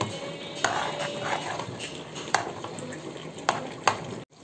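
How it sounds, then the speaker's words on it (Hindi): Masala for Delhi-style chicken changezi is stir-fried in a pan, giving a soft, steady frying hiss broken by several sharp metallic clinks of a spoon against the pan. "सारे मसाले हम मिक्स करके तकरीबन इसे 6 से 7 मिनट के लिए भून लेंगे।"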